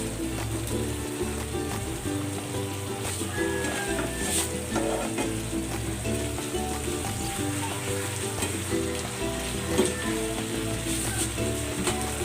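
Pork belly (liempo) sizzling and frying in a pan with its marinade, a continuous loud crackle with occasional stirring scrapes and no talking.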